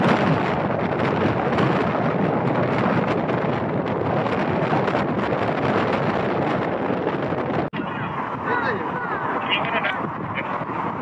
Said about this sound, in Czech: Natáčíme vítr.